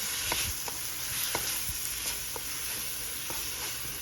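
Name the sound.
food frying in a pan for broccoli cheddar soup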